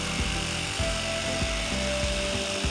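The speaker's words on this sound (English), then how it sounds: "I wonder if my jigsaw would be easier." A jigsaw cuts through a wooden stair spindle in a split-level entryway, making a close, loud buzzing rasp with rhythmic strokes that surge and dip a few times over a short burst.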